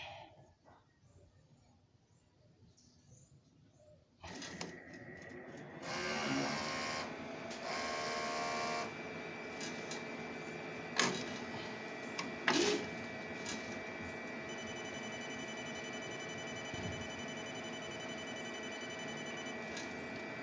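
A HONJET sublimation printer with a replaced DX11 printhead works through a cleaning cycle. Near silence gives way to steady mechanical whirring and humming, broken by sharp clicks and carriage clunks at close range, with no talking.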